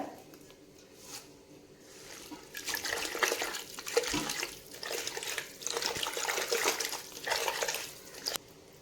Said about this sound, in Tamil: இந்த கீரையை இப்போது தண்ணியில் போட்டு 2 தடவை நல்லா க்ளீன் பண்ணிக்கலாம்.